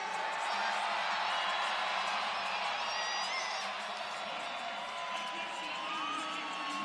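A wrestling arena crowd at a college match roars and cheers as an athlete pumps them up, a dense, steady wall of voices with scattered whoops, heard at a distance.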